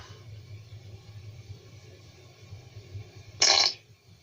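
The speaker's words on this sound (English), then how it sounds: "a sound of fart again." One loud fart sound effect bursts out near the end, a short buzzy blast over a quiet low hum.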